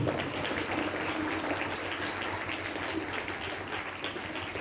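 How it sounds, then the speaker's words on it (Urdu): A church congregation applauds to welcome the bishop at a First Holy Communion feast celebration, a fairly quiet, steady spread of clapping heard from some distance that continues without a break. "بشپ جی کے لیے خوش آمدید کرتے ہوئے بھرپور تالیاں بجاتے ہوئے"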